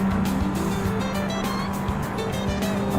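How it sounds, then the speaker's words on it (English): A car in the Assetto Corsa racing game rides over curbs with a lot of rear ride height, giving a steady engine drone with repeated rumbling thumps from the kerbs and light tire noise throughout. "you can hear it when I'm driving on the curbs now as well"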